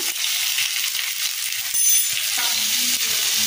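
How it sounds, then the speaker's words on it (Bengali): Vegetables with a pinch of salt frying and being stirred in a pan for a vegetarian kaon khichuri, a steady close sizzle with occasional scraping of the spatula throughout, no talking. "আমি প্রথমে সবজিগুলোকে ভালো করে নাড়াচাড়া করে ভেজে নেব"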